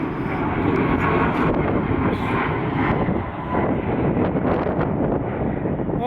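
A Southwest airliner passes at Atlanta airport with a loud, broad jet roar that holds steady throughout, mixed with wind buffeting on the microphone.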